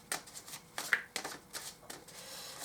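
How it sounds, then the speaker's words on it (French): Tarot cards being shuffled by hand, several quick riffling bursts and soft slaps at close range, fairly quiet with no talking. "je bats et tire mes cartes au préalable"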